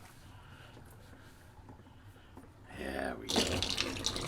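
Water is let out of a shaving sink after a wet shave with a Merkur 38c razor, starting as a low murmur under brief talk before swelling into a louder rushing gurgle near the end.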